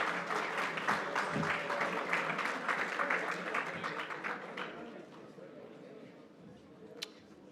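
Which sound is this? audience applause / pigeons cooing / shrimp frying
audience applause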